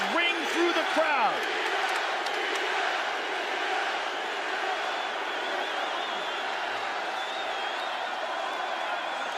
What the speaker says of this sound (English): the chance of Diaz ring through the crowd